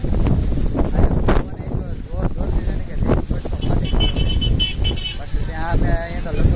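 Strong wind at Table Point on Saputara hill station buffets the microphone in loud, continuous rumbling gusts, with people talking through the roar.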